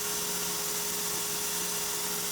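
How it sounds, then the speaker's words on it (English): An angled power sander works a wooden bowl turned from a storm-felled tree, giving a steady, unbroken high whine with a faint tonal hum, close and continuous with no voices. "I've got my angled power sander going at it"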